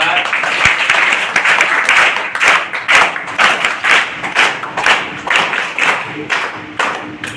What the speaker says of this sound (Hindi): ताली भी कर रहा है।